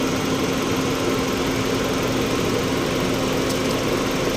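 A Toyota Vios engine idles with a constant, unbroken rumbling hum at steady loudness throughout, with no voices.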